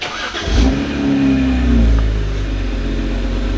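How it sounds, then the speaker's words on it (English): A 2011 BMW 1M engine cranks and catches, revs up once, then settles into a steady low idle close by. "Let me go ahead and fire the car up for you guys."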